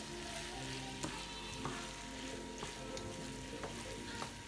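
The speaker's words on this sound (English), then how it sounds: "So I put it all together. Voila. Then I stir." Mushrooms and carrots sizzling in a frying pan while being stirred, with a steady fry hiss and a handful of distinct utensil scrapes and clicks roughly once a second, close and without talk.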